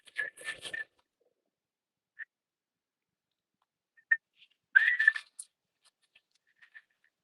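A person whistles to call farm animals in for feeding, giving a few short, bright whistled bursts separated by long quiet gaps, with faint chirps trailing off near the end.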